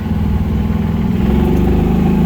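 A go-kart engine drones loud and close. It runs steadily, with a rough low rumble that rises slightly.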